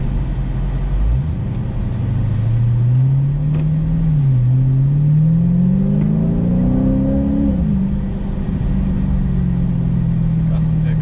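A Dodge Charger Hellcat pulls onto the road, its engine note rising and falling through several revving accelerations before settling into a steady drone, heard from inside the car.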